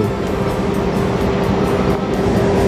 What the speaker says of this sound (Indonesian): untuk kereta api Serayu yang namanya sudah tampil di atas itu sudah siap di jalur 1